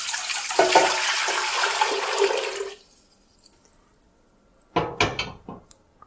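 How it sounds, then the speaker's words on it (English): Water poured into a container while diluting wine concentrate for homemade Chardonnay, a splashing stream for nearly three seconds, then a pause and a few clinking, knocking handling sounds. "Let's go ahead and start this process by adding in some of our water."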